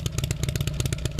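A 2007 Harley-Davidson Street Glide with a heavily modified motor, custom heads, cams and computer, breathing through two custom mufflers in true duals, revs close and loud in a rapid, choppy pulsing burble with no talk.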